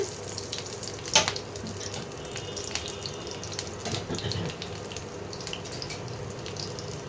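Slit green chillies fry in hot oil in a home kitchen while a mustard-oil fish curry is cooked, giving a steady low crackle with a brief sharp clatter near the start and no talking.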